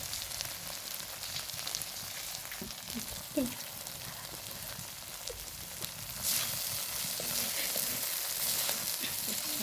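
Black cumin mash with green chilies and coriander leaves fries steadily in a pan, a soft continuous sizzle with a few brief clinks and a slight swell later on, with no talking.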